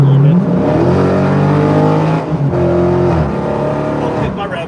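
A Dodge Challenger Demon 1320 engine revs hard against its rev limiter, a loud, close, sustained roar with stepped pitch shifts and brief dips.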